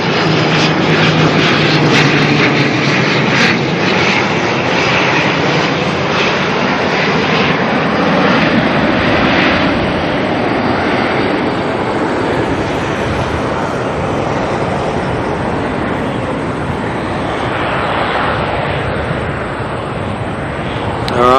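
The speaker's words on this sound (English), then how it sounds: "ATR coming in now from Tauranga" An ATR turboprop airliner lands at Auckland Airport, its engine and propeller roar loud and continuous, swelling broadly and then easing slightly as it passes and rolls out, with no voices heard.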